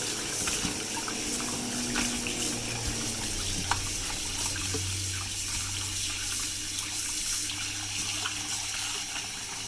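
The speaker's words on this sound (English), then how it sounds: "I'm going to rinse it out a couple more times using hot water" Hot tap water runs steadily into a kitchen sink, rinsing shrimp broth ingredients, a continuous close hiss and splash with a few clinks partway through.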